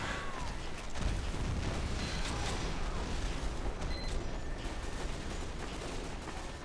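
A Team Fortress 2 Pyro's flare gun fires during a chaotic battle, its shots buried in a dense, continuous wash of gunfire, explosions and mechanical clatter that stays loud from start to finish.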